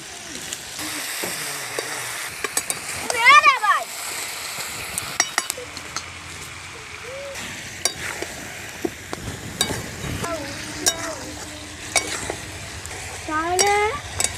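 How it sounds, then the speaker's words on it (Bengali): Potatoes go into chicken being sautéed in a pan, with continuous sizzling and frying, scraping spatula stirs and a few metallic clinks, loud and close. "কষানোর সময় আলুটা দিয়ে দিচ্ছি।"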